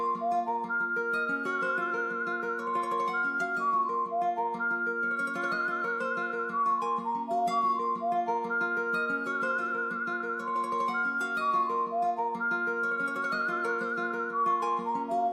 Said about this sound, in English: the whistle from Spaghetti Western is sounding like this.